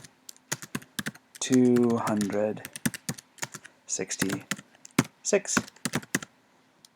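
Quick, close taps of a computer keyboard as numbers are typed, coming in rapid clusters, with someone speaking over the keystrokes in the first part.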